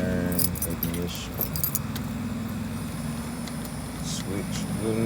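Keys jangle at the ignition switch of a 2021 Honda CB1000R Black Edition motorcycle, with bright metallic rattling bursts over a steady low hum and someone talking throughout.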